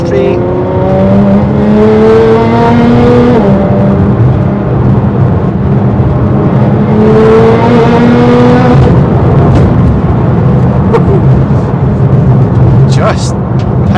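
A 640bhp Nissan GTR on air ride accelerating through the gears, loud engine and exhaust climbing in pitch with two rising pulls and a shift between, heard from inside the car under talk.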